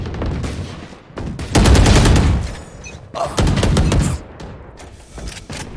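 Bursts of rapid gunfire from the Valorant shooter game, loud and close, coming in two clustered volleys separated by short pauses, with a few isolated single shots between them.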